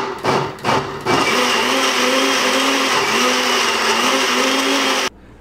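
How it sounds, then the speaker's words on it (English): Blender pulsing red cabbage leaves, a couple of brief whirring bursts followed by a steady loud motor run of about four seconds that stops abruptly. "Holding the lid, give it a few pulses."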